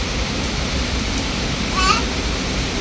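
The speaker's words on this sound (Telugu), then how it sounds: "వర్షం పడుతుంది" Steady rain falls outdoors near a home, a dense hiss of drops running through the whole stretch with a brief brighter patch near the middle and no clear talk over it.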